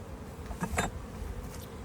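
A faint, steady buzz of honeybees around an open, packed hive hums throughout, with a brief louder burst near the middle.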